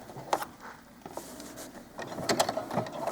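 A sewing machine stitches next to a pin where a cuff joins a doll-clothes sleeve, making a soft, close, uneven whir with small ticks and knocks over about three seconds.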